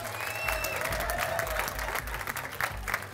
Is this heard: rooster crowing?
no